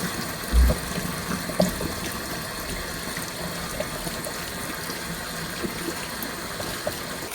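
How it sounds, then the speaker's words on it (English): A mango being rinsed under a running kitchen tap, with a steady rush of water and a couple of brief knocks near the start. "I'm gonna wash up my mango."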